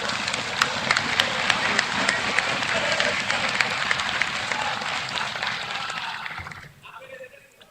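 Sustained applause and clapping in Malawi's parliament chamber, steady for several seconds before quickly fading out.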